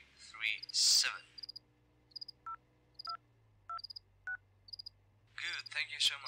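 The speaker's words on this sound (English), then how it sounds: "You have to call the following number from the phone booth." Phone booth keypad tones in a video game: a run of short electronic beeps paired with higher chirps, spaced evenly across several presses, between spoken lines at the start and end.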